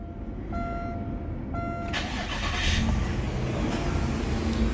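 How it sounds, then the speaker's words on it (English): A car engine cranks and catches at about two seconds, then settles into a steady idle with a low rumble, close by and fairly loud, after an oil change. "We can start the car."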